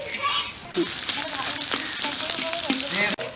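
Fish roe frying in a pan with chopped green chilli and onion, a dense steady sizzle broken by a few utensil knocks and stirring scrapes.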